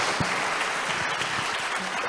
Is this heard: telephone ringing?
no